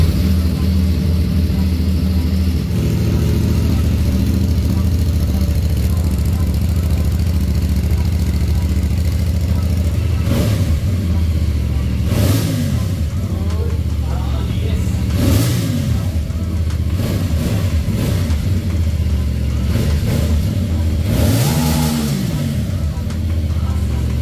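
A 2024 CFMoto 450CLC cruiser's 270-degree-crank inline-twin engine idles with a steady low rumble, then revs sharply three times, each throttle blip rising and falling back to idle.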